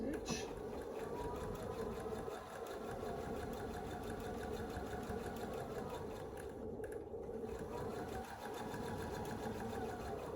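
A sewing machine runs steadily, stitching a seam on a scrap quilt block, a fast even whir close by with a brief pause partway through.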